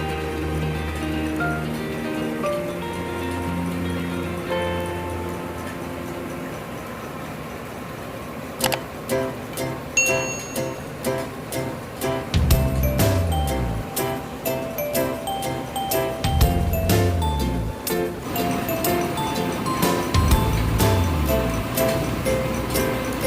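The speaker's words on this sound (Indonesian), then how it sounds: "Proses penggilingan gabah di mesin haler ini sebanyak 2 kali" Steady mechanical droning of a rice huller milling unhusked rice, later joined by rapid clattering ticks and repeated low rumbling surges as grain feeds through to separate the husks.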